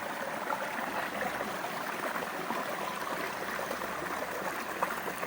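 A small creek flows steadily outdoors, producing a constant rushing, trickling wash of water with no voices.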